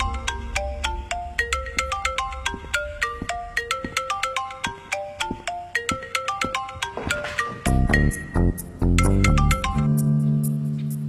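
A melodic phone ringtone plays alone for about eleven seconds, a bright repeating chime pattern that swells into fuller, louder chords toward the end.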